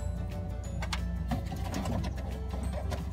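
Rapid mechanical clicking from a tool loosening small 8 mm screws on the tail light of a 2003 VW Gol Special, a close, steady ratcheting tick running throughout with no talking.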